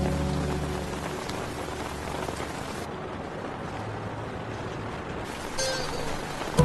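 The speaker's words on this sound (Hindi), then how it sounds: "मुझे पता है बारिश हो रही है" Steady rain pattering down on surfaces, a constant dense hiss of drops with a few louder splashes near the end and no voices.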